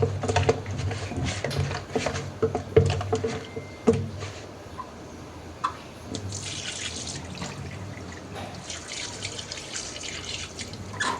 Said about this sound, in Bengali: আর ট্যাংরা মাছগুলো ধুয়ে নিচ্ছি লবণ আর লেবু দিয়ে।